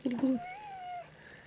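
A pet cat gives a short meow of about a second, a rising then falling tone, close by, just after brief human vocal sounds at the start.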